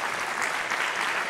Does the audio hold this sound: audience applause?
yes